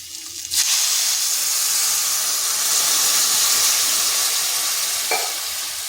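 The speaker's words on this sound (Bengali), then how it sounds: "টমেটোটা মশলার সাথে ভালো করে কষিয়ে নিয়েছি। এরপর এখানে দিয়ে দেবো জল।" Water is poured into sizzling tomato masala in a pan, setting off a loud, steady hiss and bubbling steam that holds for several seconds with a faint stir or clink near the end.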